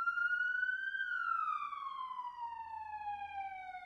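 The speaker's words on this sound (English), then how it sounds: "Sounds like a siren. Oh, it's outside." Outside, a police siren rises briefly and then sweeps slowly downward in a long, loud wail. It continues unbroken and stands alone without voices.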